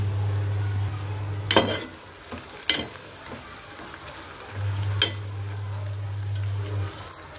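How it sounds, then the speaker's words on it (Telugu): Capsicum frying in oil while being stirred, for a capsicum, potato and tomato curry: a soft, steady sizzle with several scraping stir strokes over an intermittent low hum. "ఇవి కూడా ఆయిల్లో ఫ్రై అవ్వాలి కదండి, అందుకనేసి ఒకసారి బాగా కలిపేసుకుందామండి"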